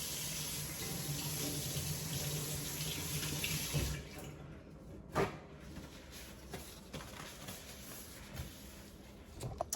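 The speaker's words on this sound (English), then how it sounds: "Now let me rinse my hands a little bit" A kitchen tap runs steadily as hands are rinsed beneath it for several seconds, then the flow stops, leaving faint drips, splashes and handling noises close by.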